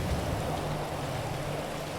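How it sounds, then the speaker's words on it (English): Rain falling near a house in a modded GTA 5 game, a steady, even hiss of downpour with a faint low hum underneath, continuous throughout. "the weather starts to change. And it's going to start raining."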